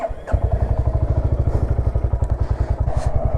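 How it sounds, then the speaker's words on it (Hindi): A motorcycle cold-starts and settles into a loud, close, steady idle with a rapid even thumping pulse, loaded with a bag for a road trip. "तो अब बाइक को कोल्ड स्टार्ट करते हैं"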